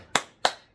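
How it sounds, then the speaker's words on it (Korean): Two sharp, close hand claps spaced about a third of a second apart, each crisp and bright with a short decay, in a quiet room. "박수 소리 들리시죠?"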